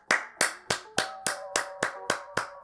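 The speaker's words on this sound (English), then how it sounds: "I like clapping when a build is complete" Ten crisp Minecraft video game claps in an even, steady rhythm, each followed by a short ringing tail, fairly close with nothing else audible.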